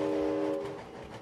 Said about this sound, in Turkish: Düdük çal, düdük çal.